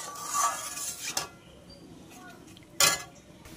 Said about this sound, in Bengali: এবার আমি কিন্তু এটা একটা থালা দিয়ে ঢেকে দেবো প্রায় 5-10 মিনিট